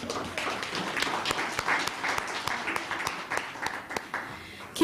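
An audience at a women in leadership event applauds, with dense, continuous clapping from a crowd and some voices mixed in.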